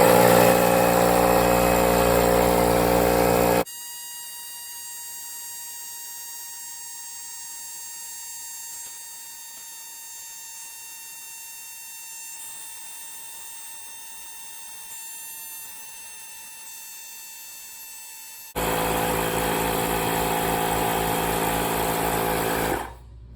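A Milwaukee M12 compact inflator, model 2475-20, set to 50 PSI, runs with a steady, even motor whine for about fifteen seconds. Louder, broader noise comes just before it starts and just after it stops.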